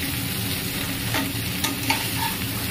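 Cauliflower frying in a pan, a steady close sizzle with occasional scraping stirs of a spatula, no voices.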